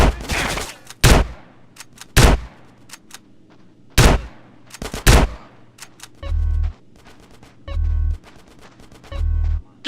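Gunfire rages in a GTA San Andreas gang shootout against police: sharp, loud shots in bursts at an irregular rhythm, with heavier low booming volleys in the second half and no talk over it.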